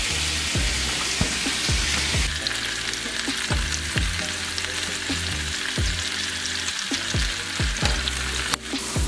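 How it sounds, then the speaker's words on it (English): Peppers and onions frying in a pan for a quinoa and rice dish, a steady crackling sizzle with repeated scraping stirs at a regular rhythm, close and fairly loud, no talk. "Cooking the peppers and onions, just about done now."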